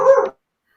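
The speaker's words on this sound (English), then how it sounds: "Sorry, dog's here." A dog barks once, a single short, loud bark close by, followed by silence.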